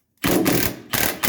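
A ratchet wrench turning out the bolts that hold the self-leveling suspension valve on a 1984 Mercedes 300TD, a loud close burst of clicking that pauses briefly and resumes.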